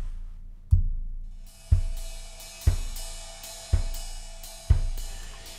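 Drum kit groove run through DubSub2 tape head-bump processing, five heavy, booming kick-and-cymbal hits spaced about a second apart with thick low end and bright decaying wash, alone without talk.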